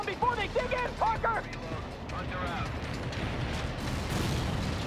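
Artillery shelling in the World In Conflict video game, a continuous rumble of distant blasts building in the second half, with a voice talking over the opening.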